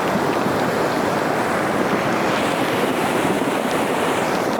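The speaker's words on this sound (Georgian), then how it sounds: "ძალიან გაგიჟდა მდინარე." A swollen river in rainy Racha, Georgia rushes after rain, a loud, close, unbroken roar of churning water with no voices.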